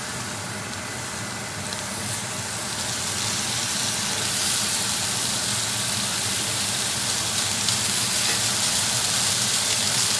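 Unsalted butter sizzles in a hot pan around a seared bison sirloin steak. The loud, steady frying hiss swells after a couple of seconds and then holds close and constant, with no voices.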